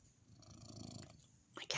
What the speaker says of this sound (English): My cat's purring.